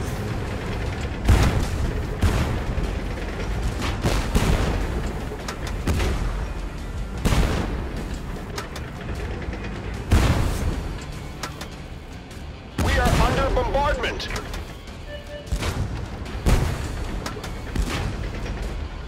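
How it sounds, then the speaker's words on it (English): Artillery bombardment in the Tank Force video game: repeated heavy booms and bursts of gunfire rolling through the scene at irregular intervals, loud and close, with voices talking over parts of it. "We are under bombardment!"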